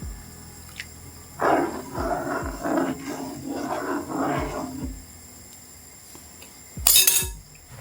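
Seasoning is stirred into a pot of vegan Jamaican stew peas, a spoon scraping and clinking against the pot in uneven strokes, followed by a sharp metallic knock, close and moderately loud with no speech.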